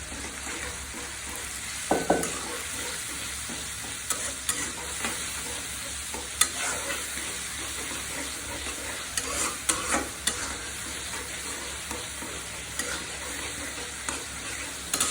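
Masala paste frying in a pan for a cauliflower roast, a close, continuous sizzle broken by repeated scrapes and knocks of the spatula as it is stirred, with no talking.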